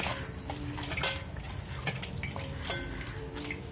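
Palak keerai (spinach) leaves swished and rinsed in water in a kitchen vessel, with splashing, dripping and light clinks of a pot or bowl recurring through the moment, close and fairly quiet.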